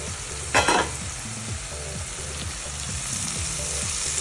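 Turmeric powder and coriander leaves fry in hot oil for temple-style lemon rice, a close continuous sizzle. One brief burst of scraping comes early as the spoon stirs, then the hiss keeps steady.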